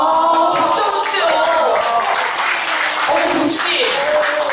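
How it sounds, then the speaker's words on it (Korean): Audience applause fills a book concert hall during an author talk, a sustained dense patter of many hands clapping with voices mixed in. "박수 한번 주세요."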